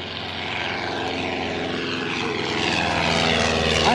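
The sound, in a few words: Stampe SV4C biplane flying overhead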